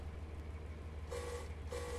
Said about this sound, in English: And then we'll get the guard buzzer.